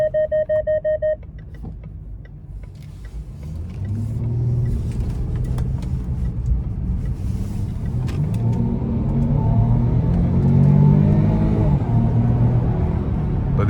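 A 2017 Range Rover HSE Supercharged V6 pulls hard from inside the cabin after a few chimes, its engine rumble rising steadily and getting louder as it accelerates, with a broad road and wind roar beneath.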